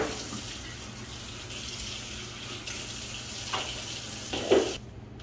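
Hot water runs steadily from a tap through the spigot of a culturing container, a continuous hiss of flow that ends with a brief splash and then cuts off.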